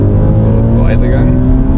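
An Audi RS4 B7 accelerates hard in second gear, a loud, close engine roar that climbs in pitch over under two seconds.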